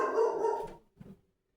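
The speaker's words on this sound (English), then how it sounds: "I don't know why my dogs are barking" Dogs bark close by: a longer run of barking followed by a short pause and one more brief bark, then quiet.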